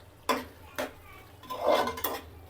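Shrimp curry being stirred and sautéed in a pan, a few separate scrapes and knocks of a spoon against the metal over a soft low sizzle, close by and with no talk.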